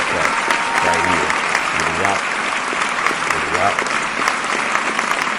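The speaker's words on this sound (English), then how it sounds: "Go ahead and take that applause clap right here." A loud, continuous burst of applause is dropped into a podcast as a sound effect, with a voice talking over the clapping throughout.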